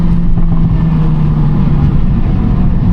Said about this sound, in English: it has so much grunt, and you can tell that the engine is literally maxed out